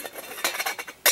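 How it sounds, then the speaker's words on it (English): A titanium lid for a Snow Peak 700 pot clinks and taps against metal in a few light, close metallic strikes, with a sharper clink at the end. "a titanium lid for the Snow Peak 700"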